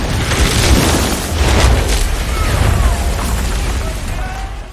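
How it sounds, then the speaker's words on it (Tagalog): A detonator sets off an explosion in an action film, a loud, sustained rumbling blast with roaring debris that fills the whole stretch without fading, heard close and with no voices over it. "Pinindot ni Rykov ang detonator at tuluyan ng nagulo ang lugar."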